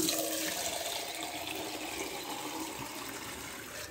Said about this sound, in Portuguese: Eu coloco água, porque elas comem muito rápido e a ração é seca.